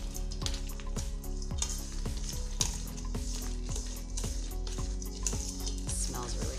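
Roasted nuts stirred in a hot pan with sugar and salt coating them, giving a steady sizzle broken by regular scraping strokes of a spoon, close and continuous.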